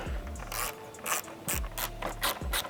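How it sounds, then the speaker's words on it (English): Rapid ratcheting clicks from a T25 Torx driver backing out screws on a Porsche 992 come in three close bursts with short pauses, loud and near, and no talking. "we can get our T25 and release these two screws at the bottom"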